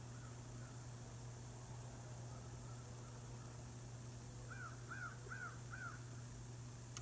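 Several crows caw outdoors, a run of four harsh calls close together near the end, with fainter calls earlier, over a steady low hum and hiss.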